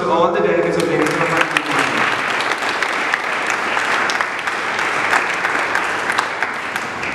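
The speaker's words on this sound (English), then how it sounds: "A huge round of applause to all the delegates of Delegates." Loud, sustained applause for the delegates at a school Model UN conference: a voice speaks briefly at the start, then crisp, dense clapping from a crowd carries on steadily.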